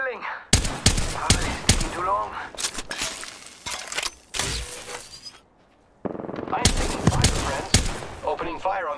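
Gunfire in Apex Legends: sharp bursts of rapid shots in clusters, with a brief pause before another volley, while a player talks over the action.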